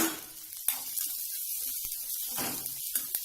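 Sliced onion and curry leaves sizzle and hiss steadily in hot oil in a pan, cooking for a Tamil thoothuvalai thuvaiyal, with a few sharp crackles and spits and no talking.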